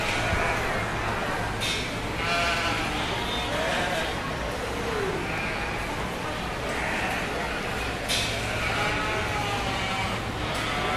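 Sheep bleat repeatedly at a 4-H/FFA breeding sheep show featuring Blue-faced Leicester yearling ewes, calls rising over a constant crowded barn murmur with voices talking underneath.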